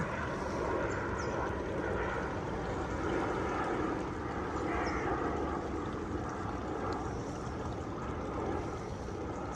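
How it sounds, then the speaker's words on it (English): Deep, steady roar of a large airplane passing low overhead, loud and constant throughout. "That is a big plane."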